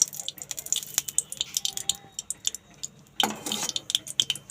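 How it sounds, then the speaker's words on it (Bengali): Mustard oil hitting a hot wok, with close sharp crackling and spitting pops that come in irregular bursts and swell into a louder sizzle toward the end. "আমি সর্ষের তেল দিয়ে নিচ্ছি কড়ার মধ্যে"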